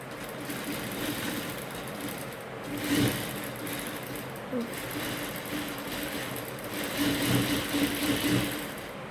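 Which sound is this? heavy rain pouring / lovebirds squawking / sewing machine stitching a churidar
sewing machine stitching a churidar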